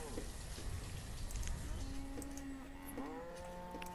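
Cattle lowing in a pasture in the colonial village-building game Banished, a couple of drawn-out moos over a steady bed of rain-like ambient noise.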